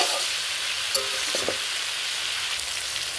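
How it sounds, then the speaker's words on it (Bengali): Soybean curry with potatoes sizzling and frying in a pan while being stirred, a steady bright crackle with a few scraping clinks of the spoon, close and continuous with no talking. "আমি একবার নেড়ে চেড়ে দিচ্ছি, অনেকটাই কমে আসছে"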